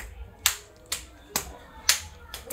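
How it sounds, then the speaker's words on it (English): Hands clapping in a small room, five sharp, evenly spaced claps about half a second apart, close and fairly loud with quiet between them. "Give yourself a round of applause."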